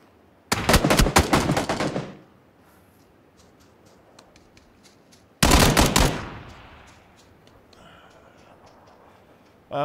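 Automatic gunfire in the competitive PUBG video game: two loud bursts of rapid shots about three seconds apart, each trailing off into faint ticking and distant pops, with another burst starting at the very end.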